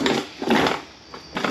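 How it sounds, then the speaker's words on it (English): A screw stripping on the oil pan of a BMW E46 M3 gives two bursts of harsh, gritty grinding, then a shorter third scrape, each close and loud with brief pauses between. "That's me ruining a screw."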